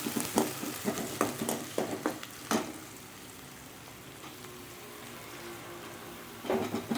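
Large onions sautéing in a pan for a hotel-style prawn gravy, with a soft steady sizzle broken by several bursts of spoon-scraping stirring, a quiet gap, then more stirring near the end.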